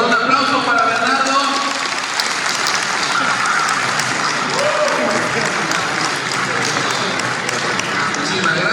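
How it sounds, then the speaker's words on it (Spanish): A convention crowd at Millennium Fancon 2023 applauds a panelist, a dense, loud, continuous roar of clapping sustained throughout with voices and cheers mixed in. "Un aplauso para Bernardo."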